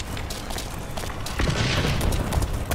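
A bomb goes off in the shooter Blacklight Retribution: scattered gunshots first, then a deep, heavy boom rumbling up midway and lingering near and loud to the end.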